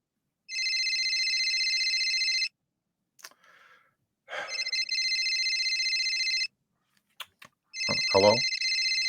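A telephone ringing in a podcast studio, three long electronic trilling rings separated by pauses, clear and close, with brief rustling and a short vocal sound between the rings.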